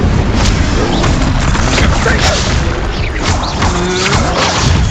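Spell explosions in Hogwarts Legacy, a dense roaring barrage of blasts and crashes that stays loud and constant throughout, with a voice shouting over the game audio.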